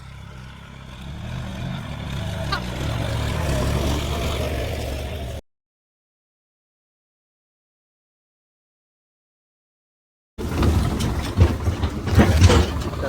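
A tractor engine runs steadily while the tractor is being pulled out, its low rumble continuous for several seconds, then a gap of silence, then the engine again with rougher, louder bursts.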